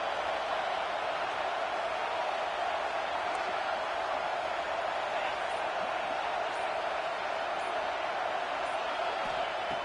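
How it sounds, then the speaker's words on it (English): Home crowd at a college football playoff game, Florida State at Texas A&M, making a steady, loud roar that fills the stadium throughout, with no break or lull. "this home crowd is fired up and ready to make a difference today."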